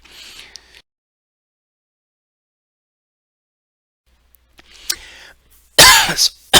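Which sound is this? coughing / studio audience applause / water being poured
coughing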